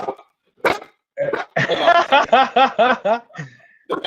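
A dog gives a run of rapid, rhythmic yelping barks, close and fairly loud, after a couple of short sharper yips.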